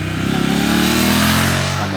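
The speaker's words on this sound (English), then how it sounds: "they've kept that lovely exhaust note which just sounds so retro" A Triumph Speed Twin motorcycle's exhaust note rumbles steadily and loud up close, a deep throbbing twin-cylinder tone with a slight rise in revs partway through and no talking over it.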